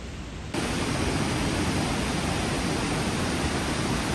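A flooded river at Sundarijal rushes past in a loud, steady roar of churning water that bursts in suddenly after a brief quiet moment and continues unbroken, close and dense.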